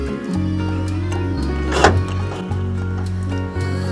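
An electric latch actuator on a Honda N-VAN releases the rear tailgate from an interior switch, a steady motor hum broken by a sharp mechanical clunk midway and a brief thump near the end, with no voices.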